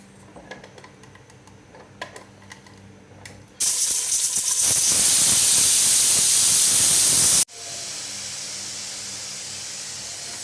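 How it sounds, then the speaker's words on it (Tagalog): A pressure cooker vents steam in a sudden loud, steady hiss that bursts in after quiet ticking, holds for several seconds, then cuts off sharply and leaves a softer lingering hiss. "pangalawang release na po natin sa ating pressure cooker"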